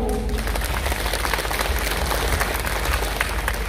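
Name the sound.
loud applause at memorial meeting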